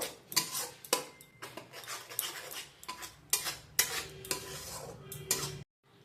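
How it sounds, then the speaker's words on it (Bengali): A spoon stirs fried onion and cashew paste through a potato and cauliflower curry in a metal pot, making close, rhythmic scraping and clinking strokes in uneven bursts with no talk, then stopping abruptly. "যে আমরা পেঁয়াজ কাজু আর চালমগজটা ভেজে রেখেছিলাম তার পেস্ট ভালো করে সব একসাথে মিশিয়ে নেব"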